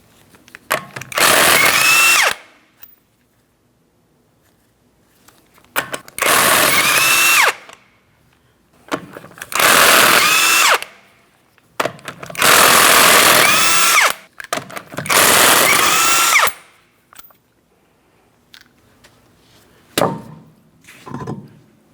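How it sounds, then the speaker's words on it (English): An impact power tool spinning off the five 19mm lug nuts of a rear wheel on a 2004-2008 Pontiac Grand Prix, five loud sustained bursts of a couple of seconds each with quiet gaps between, then a shorter final burst. "we're going to remove all 5 of our 19mm lug nuts and remove the wheel"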